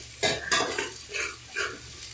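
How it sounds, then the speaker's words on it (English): Tomato and onion sautéing in a pan, soft sizzling broken by four or five scraping stirs of a utensil against the metal, close and fairly quiet, with no speech. "nagigisa pa rin siya ng ano, ng kamatis with onion"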